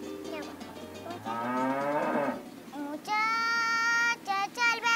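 Cattle on a Venezuelan farm in Guárico moo loudly during milking, several long harmonic lowing calls in sequence, one rising and falling, the last ones strong and close with short breaks between them.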